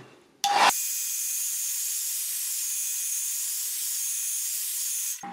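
A heat gun blows across tape glue on a canvas to soften it, a loud steady hiss that switches on abruptly, runs evenly for about five seconds, then cuts off.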